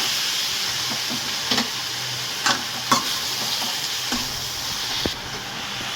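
Spicy gangavalli leaf chutney is stirred in a hot pan: a continuous close sizzle with several distinct spatula scrapes against the metal, and no one speaking.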